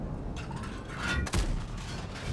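The Soviet ISU-122S tank destroyer's main gun fires a single blind shot in World of Tanks. It lands as a sharp, heavy crack with a deep thump, set against a continuous battle rumble and faint scattered distant reports.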